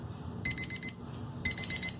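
Kitchen timer alarm sounding after boiling eggs: two loud bursts of rapid, high electronic beeps, each a run of four quick pulses, near and alone with a faint background hum.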